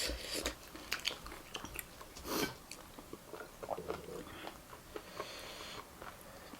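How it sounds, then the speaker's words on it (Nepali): Close, quiet chewing and biting of Nepali food (choila, spicy potatoes, beaten rice and seasoned greens) during a mukbang, with irregular crunchy bites and soft mouth sounds alongside an occasional sniff. "चपाउनु गाह्रो भयो"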